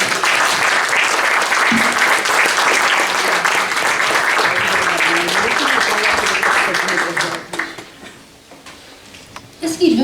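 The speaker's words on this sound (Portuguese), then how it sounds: "Um aplauso para a Carolina" Sustained audience applause after a speaker's presentation, loud and dense for about seven seconds before fading to scattered claps and a few murmurs.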